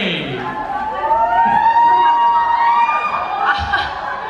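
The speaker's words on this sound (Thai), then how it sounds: "ขอเสียงปรบมือดังๆด้วยนะครับผม" A crowd at a T-ARA fan meeting cheers loudly, with high, drawn-out screams of fans rising and falling in pitch, swelling near the middle and bursting up again toward the end.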